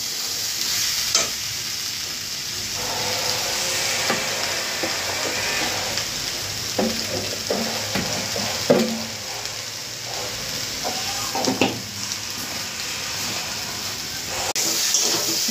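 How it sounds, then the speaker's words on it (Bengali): Spice masala being stirred and fried in a pan for a Bengali crab and potato curry, a steady close sizzle with repeated scraping stirs throughout, no talk. "যত মশলাকে কষবেন তত তরকারির টেস্ট আরও ভালো হবে।"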